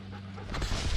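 A blood-trailing dog on a deer hunt pants close by, quick rough breaths growing louder over about a second.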